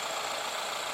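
A Renault QM6 (Koleos) with a 1.7 dCi diesel engine idling, heard from outside the car at night; a steady, faint, hissy hum with no voices.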